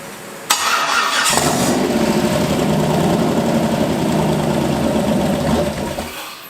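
An LS V8 swapped into a Ford Mustang, running drive-by-wire idle air control, catches abruptly and then settles into a loud, steady, rumbling idle that fades slightly at the end, with no talking.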